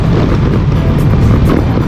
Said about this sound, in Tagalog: Ang lakas ng hangin, sarap ah